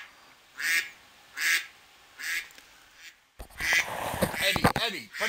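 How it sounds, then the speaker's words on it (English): A duck quacks indoors in four loud, evenly spaced bursts, then more quacking continues under a busy mix of voices and household noise. "put that duck outside"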